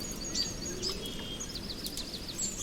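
A blue tit calls in a garden or woodland, giving short high chirps and thin repeated notes, faint against a steady outdoor background hum.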